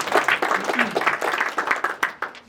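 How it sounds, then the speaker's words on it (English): A conference audience applauding together, a dense wash of many hands clapping steadily at close range for a few seconds, with a voice or two mixed in. "So give yourselves a round of applause."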